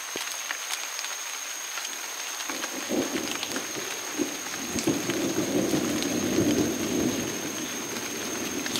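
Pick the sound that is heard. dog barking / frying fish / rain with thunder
rain with thunder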